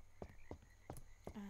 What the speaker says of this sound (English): Also, there's loads of frogs.